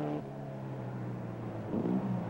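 Racing cars at Mosport in 1962 roar past in a steady engine drone, with a rising rev near the end as the pack follows closely.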